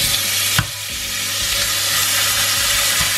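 Butter melts and sizzles in a saucepan, a steady close frying hiss with a sharp clink near the start and soft stirring scrapes, no talk, for a Christmas pudding cake with brandy cream.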